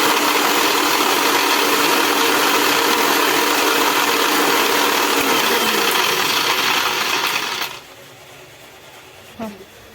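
A mixer grinder blending Oreo milkshake, a loud steady whirring rattle that runs for nearly eight seconds and then cuts off abruptly, leaving a quiet room and a faint clink.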